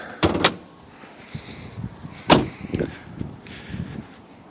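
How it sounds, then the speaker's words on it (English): Hood of a 2002 Infiniti Q45 being opened: a few sharp latch clicks and clunks, fairly close, with a louder thunk midway and softer mechanical knocks after, no talk. "Pop the hood here."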